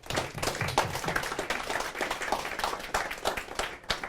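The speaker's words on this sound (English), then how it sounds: "I think that deserves a round of applause." Audience round of applause at a property investment event, a steady moderately loud patter of many hands clapping that fills the whole stretch without a break.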